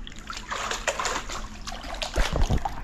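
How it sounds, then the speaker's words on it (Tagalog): Splashing in cold water at an outdoor resort spot, with soft trickling and sloshing close by and a few louder splashes near the end. "Sarap magtampisaw."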